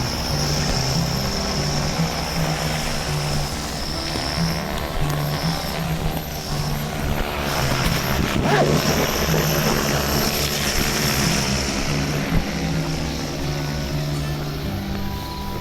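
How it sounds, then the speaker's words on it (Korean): Agricultural drone spraying pesticide over rice paddies, a steady, loud rotor whine with a high tonal hum that rises and falls slightly as the craft moves overhead and holds for the full stretch. "제초기 소리인 줄 알았는데 실제로 농약을 뿌리는 드론을 보니 마치 미래에 와 있는 기분이래요"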